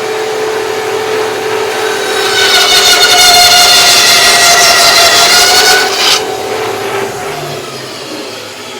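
An upgraded-motor Harbor Freight bandsaw runs at its fastest speed, giving a loud, steady mechanical whine with a bright high-pitched ring that swells for a few seconds, then drops back to a lower running hum.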